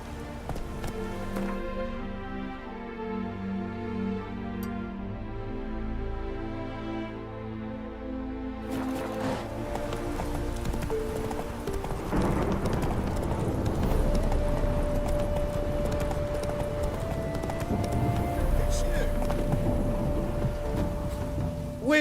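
Roach, a horse in The Witcher 3, gallops with a steady clip-clop of hooves under a musical score that swells and grows busier halfway through, with no voices.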